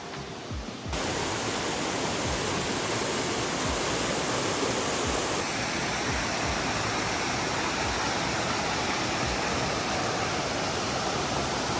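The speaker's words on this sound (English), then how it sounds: "we're gonna check out these waterfalls up close" Constant roaring rush of a waterfall close by in the Okanagan Valley near Penticton, British Columbia, loud and unbroken after a short quieter start; no voices.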